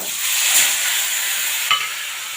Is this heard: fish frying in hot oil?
yes